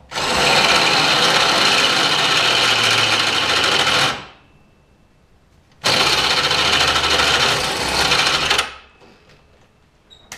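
A cordless power drill runs loudly in two long, steady bursts of about four and three seconds, with a brief quiet gap between them, during an axle swap.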